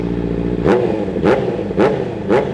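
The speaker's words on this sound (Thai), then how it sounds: "เป็นท่อแต่งจากไดโวนะครับปลายเป็นคาร์บอนครับแบบสลิปออนครับผมมาฟังเสียงกันหน่อยมา" A 2019 Honda CBR650R fitted with a Daivo carbon-tipped slip-on exhaust idles steadily, then blips sharply four times at even intervals, each rev rising and dropping quickly, loud and close.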